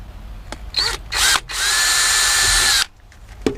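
A power drill driving self-tapping screws into plastic during a CB radio install, several short whirring bursts followed by one sustained high whine, then a stop, loud and close.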